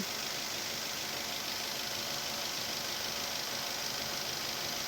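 A Daihatsu Terios engine fitted with a cold air intake runs steadily at low RPM, a constant even hum and hiss with no changes in pace, heard up close with no talking.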